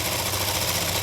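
A sewing machine lays a double row of stitches on a loose summer palazzo with a full elastic waist. The motor drones continuously and nearby for the whole second, with no pause and no voices.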